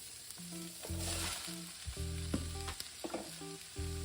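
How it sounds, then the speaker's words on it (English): Onions and carrots sizzle in olive oil in a big pot, with a steady, close frying hiss running the whole time under tonal background sounds. "Hear that sizzle?"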